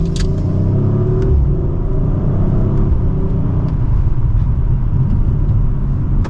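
A 2024 Audi RS5 Coupe engine rumbles loudly and steadily while accelerating from second gear, with a low growl holding close and constant throughout and no talking.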